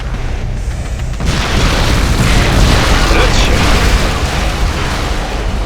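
Explosion in the StarCraft 2 campaign, a loud sustained booming roar that swells after a brief quieter start and rumbles on, with a voice speaking briefly over it.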